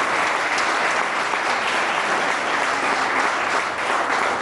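A large audience at a televised awards-style special in Colombia claps in a dense, even wash that holds steady and strong throughout, with no voices on top.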